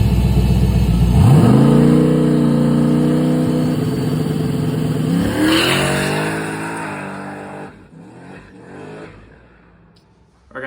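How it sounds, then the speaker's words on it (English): A pickup truck launches hard off the line on a no-prep drag strip, its engine revving loud and rising steeply before the pitch falls away and the run fades into quieter distance. "as you see, the truck kind of bounced off the line"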